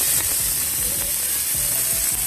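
Steaks seasoned with salt and pepper sear on a hot grill, giving a steady broadband sizzle with faint crackles and low clicks throughout, close and fairly loud, with no talking.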